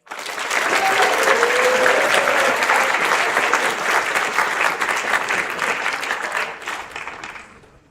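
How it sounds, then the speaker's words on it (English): An audience at an awards convocation breaks into loud, sustained applause for an outstanding citizen, a dense wash of clapping that holds steady for several seconds before tapering off at the end. "give a big round of applause for the most outstanding citizen, Mr. Christopher Frank"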